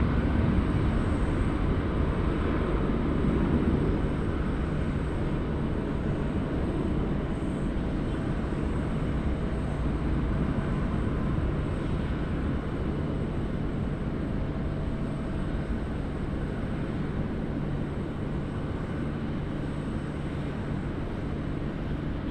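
A Cathay Pacific airliner on runway 16 right at Sydney Airport roars in a broad, steady rumble that holds loud and slowly eases as it moves off.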